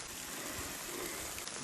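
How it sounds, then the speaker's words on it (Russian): Late-autumn rain begins falling outdoors on a fishing trip, a steady, faint broadband hiss of drops with no talking. "дождь пошел"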